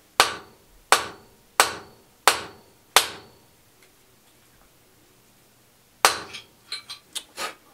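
Sharp hammer blows driving wax into a 7.62x39mm Red Army Standard Elite rifle cartridge: five evenly spaced loud strikes, then a pause and a quicker cluster of lighter taps and clinks.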